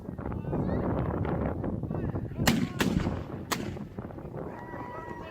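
Artillery fires at a Rock of Ages event: three loud, sharp booms come in quick succession over a murmuring outdoor crowd.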